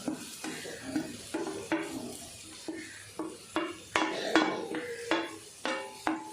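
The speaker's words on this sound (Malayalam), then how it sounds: "അതും കൂടി ഇട്ട് കൊടുത്ത് തേങ്ങ ഒന്ന് ചൂട് പിടിച്ചൊന്ന് വഴറ്റിയെടുക്കാം നമുക്ക്" Grated coconut being sautéed in a pan for eggplant thoran, a spoon stirring and scraping the pan in a steady rhythm of short, close scrapes with a faint sizzle underneath.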